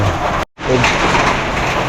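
Steady, dense hiss of rain pouring down nearby, briefly cutting out for a split second before the downpour noise continues.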